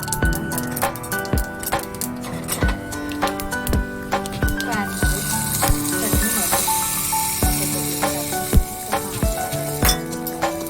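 Mustard seeds, curry leaves and urad dal crackle and sizzle in hot oil, a steady spattering hiss that swells in the second half, with tonal background music and a few sharp clinks running underneath.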